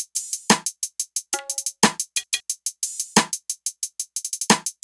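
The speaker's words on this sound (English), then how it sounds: "And then I ended it with just using an open hat right before the snare hits." Programmed hip-hop beat, with an open hi-hat sounding just before each snare hit over a steady run of closed hats and punchy kicks, loud and alone with no talking.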